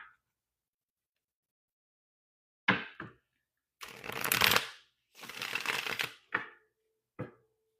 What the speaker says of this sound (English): let's pull a few other cards here